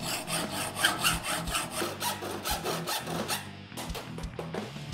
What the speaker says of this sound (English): It's time to start cutting.